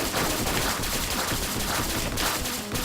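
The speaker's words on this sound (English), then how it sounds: "Let's shoot the thing in its face." Continuous dense gunfire in the video game 20XX as the player shoots the Vile Visage boss, a loud unbroken barrage of rapid shots with no pauses.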